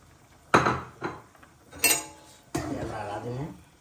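A metal spoon scrapes and knocks against a cooking pot in several sharp, close clanks while beef kala bhuna curry with chillies is stirred, followed by a stretch of sizzling and clatter; a voice speaks at points.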